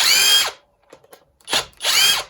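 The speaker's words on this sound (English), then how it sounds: "See a T27 Torx driver. Take the two bolts out and they hold the carb in place" A power driver fitted with a T27 Torx bit backs out the bolts on a carburetor cover, giving two loud whirring bursts split by a pause with faint clicks, then another burst near the end, with no talking.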